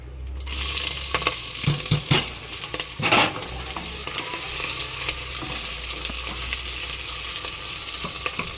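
Whole spices, chopped onion and chilli hit hot oil for khoshka pulao with mutton, bursting into a loud sizzle with stirring clatter early on, then settling into a steady close frying hiss with no talk.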